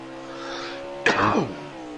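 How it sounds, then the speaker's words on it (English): One short, sharp cough breaks out near the mic during a sim-racing stream of a Road America event, over a faint steady hum. "Apologies on the coughing on the stream there, guys."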